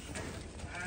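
Sheep bleating nearby, a short continuous bleat filling the moment, loud and close amid other flock noise, with no talk.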